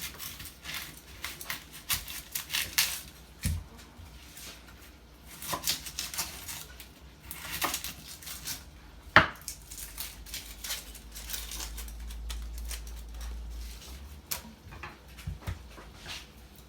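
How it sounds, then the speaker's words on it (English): A knife slices an onion very thin on a board, giving faint, irregular cutting taps and scrapes spread over the clip, with a low background hum near the end. "So look at this, how I slice it"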